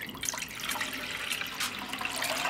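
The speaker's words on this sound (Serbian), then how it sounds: "litar vode sipaću u jednu manju šerpu" A litre of water pours into a small cooking pot, a steady near splashing gurgle that runs continuously at moderate volume with no speech.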